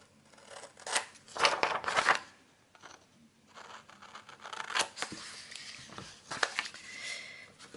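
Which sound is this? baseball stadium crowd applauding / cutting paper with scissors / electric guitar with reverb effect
cutting paper with scissors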